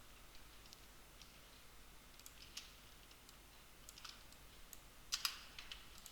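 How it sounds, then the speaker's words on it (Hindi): Quiet, sparse keystrokes on a computer keyboard while text is entered in Photoshop, a few faint taps spread out with a brief cluster of sharper clicks near the end, over a low steady room hum. "और इसके नीचे भी कुछ और टाइप कर लेता हूँ।"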